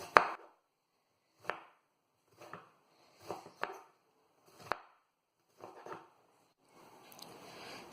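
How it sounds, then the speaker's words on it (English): A knife chops a bitter melon into rounds on a cutting board, seven separate sharp chops spaced about a second apart, close and clear in a quiet room, followed by a soft rustle. "You should be careful while chopping this bitter melon."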